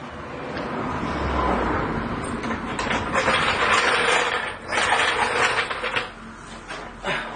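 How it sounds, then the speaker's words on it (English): Car jack ratcheting under a Galant/Legnum VR4 during lower control arm replacement, raising the suspension with a run of close, rapid mechanical clicks and clanks that pause and resume. "So we're going to get the jack right under where that first bolt is and jack the suspension up"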